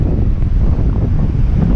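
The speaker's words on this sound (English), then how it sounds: "Kind of windy today." Strong wind at Juno Beach, Florida, buffets the microphone with a loud, low, continuous rumble.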